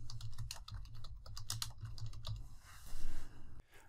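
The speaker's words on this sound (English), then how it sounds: "I could just type it in here." Rapid, uneven typing on a computer keyboard while listing an item in eBay listing software, with clustered keystrokes close up that trail off near the end.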